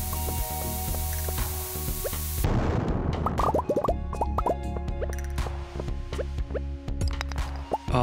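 Cherry bombs going off in Stardew Valley, a loud burst followed by a scatter of small popping, plopping game effects against a steady music bed.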